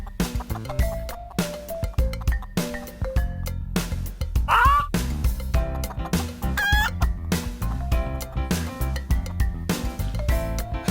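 Cartoon-style chicken clucks, with a brief crow-like squawk midway, set against bouncy children's music with steady beats and melody throughout.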